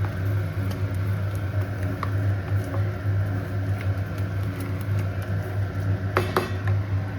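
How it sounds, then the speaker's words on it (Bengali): Spice paste stir-fried in a pan gives a continuous low sizzle with scattered scraping and clinking of a spatula against the metal, a sharper scrape near the end, and no talk. "পেস্টটা দিয়ে দিয়েছি, এবার এটাকে খুব ভালো করে কষাবো যতক্ষণ না এটা থেকে তেল ছাড়ছে"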